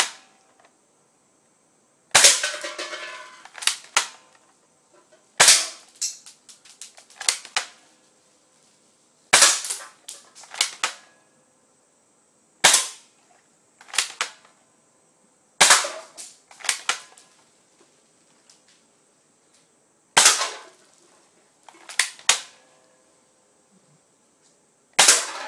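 Sharp spring airsoft shots from a DMA M-14 SOCOM rifle hitting cans, fired singly and in quick bursts with pauses between groups, each crack followed by brief metallic rattles and tinny ringing.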